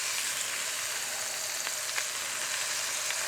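Steady, dense sizzling of thick salmon fillets frying skin side down in a pan, with a few faint clicks and pops over the continuous hiss.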